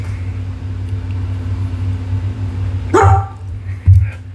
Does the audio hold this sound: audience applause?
no